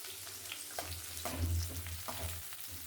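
Onions frying in oil in a pan, a continuous close sizzle with soft pops and a low background hum.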